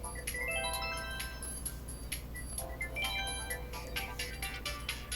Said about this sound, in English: Your phone always has to tell you about something when you don't want it to.